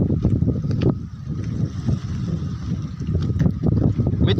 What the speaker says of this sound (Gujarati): મિત્રો આ વિડીયોમાં પવન તો આવશે જ, કારણ કે 2-3 દાડાથી પવન જોરદાર છે.